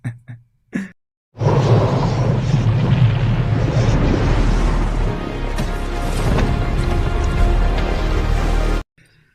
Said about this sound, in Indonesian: dia berhasil mengendalikan angin sehingga terjadi ledakan di kapal ini